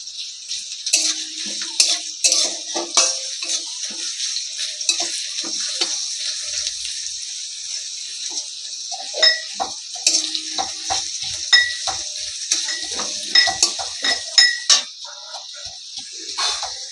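Onion and garlic fry in a pan for a Bengali eel (kuche fish) curry, a close, continuous sizzle broken by frequent scraping and clinking of a spoon stirring against the pan.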